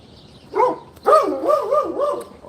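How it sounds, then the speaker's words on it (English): A dog barking at people nearby, a few loud, wavering barks and yips in quick succession, heard alone without talk. "That's my dog also. He's barking at people."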